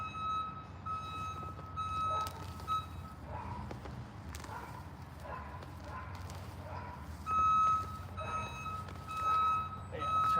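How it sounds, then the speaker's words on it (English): Repeated reversing beeps sound in the background at a steady rhythm, with short pauses between bursts, over low rumbling and faint movement. "Any random beeping in the background?"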